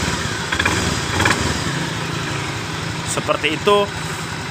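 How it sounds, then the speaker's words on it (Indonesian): A motorcycle engine is started and the throttle opened during a mechanic's inspection, a steady loud idle with brief revving bursts, while someone speaks over it. "Coba kita hidupkan. Kita dengarkan baik-baik. Dan coba kita buka tuas gas."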